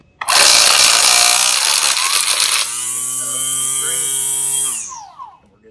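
Ryobi string trimmer just repaired at its auto-advance slider spring, starting with a sudden loud high whine that drops to a steadier buzzing drone before winding down and cutting off near the end.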